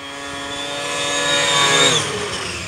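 A car engine passes by with a rising turbo whine that peaks, then the pitch drops as it moves away, loud and close, with no talk.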